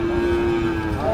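A cow with her bull calf at a busy rural cattle market gives a single sustained, fairly close moo lasting about a second over low market background noise.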